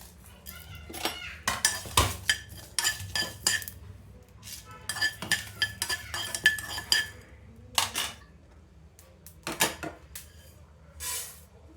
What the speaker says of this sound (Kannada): ಕೊತ್ತಂಬರಿ ಬೀಜ ಒಂಚೂರು ಜೀರಿಗೆ ಮೆಂತ್ಯ ಎರಡನ್ನು ಮಿಕ್ಸ್ ಮಾಡ್ಕೊಂಡು ಹುರಿತಾ ಇದ್ದೀನಿ